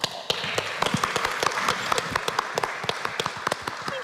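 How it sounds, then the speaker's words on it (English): A conference audience applauding at an evening plenary, a steady patter of many hands clapping at moderate distance throughout, with a few louder individual claps standing out. "June and Ellen deserve a round of applause."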